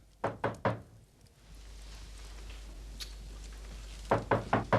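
Knocks on a door in a 1980s English detective drama: a quick burst of three firm raps, then a low hum, and another run of four knocks near the end; no one speaks.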